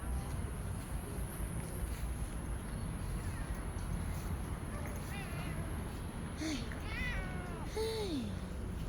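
A cat meows repeatedly as a familiar visitor returns, several drawn-out, rising and falling meows coming close together near the end, over a steady background hum.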